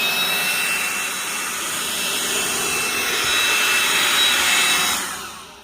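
A DeWalt 20V GEN 2 brushless cordless leaf blower (DCBL722P1) blows leaves outdoors with a loud, steady airy roar. The rush swells slightly toward the end, then quickly tapers off as the blower is released.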